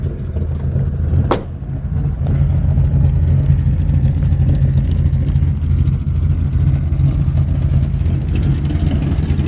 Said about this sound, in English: Really good sounding engine.